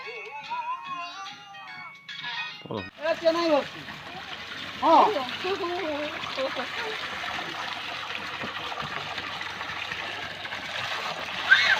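Forceful gush of cold running water pours steadily and close by for most of the stretch, with a voice speaking at the start and fading under the constant rushing flow.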